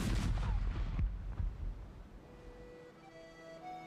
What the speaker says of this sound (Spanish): Se disparó una salva de 22 cañonazos